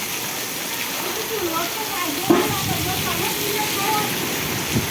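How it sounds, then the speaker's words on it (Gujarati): Heavy rain with strong wind hisses steadily throughout while a person speaks and exclaims over it, with one sharp knock partway through. "અતિ ભયાનક પવન સાથે વરસાદ મિત્રો."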